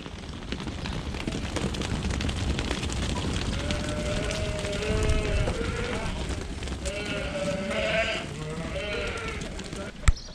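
Sheep bleat in a lambing shed, several wavering calls rising over a dense, noisy barn background while a person talks steadily throughout.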